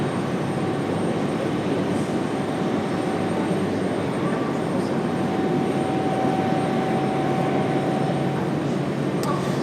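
A heavy airplane takes off at Raleigh Durham International Airport, a broad steady engine roar that stays loud and even throughout, heard from some distance on the field.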